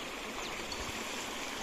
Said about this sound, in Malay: bertemankan air sungai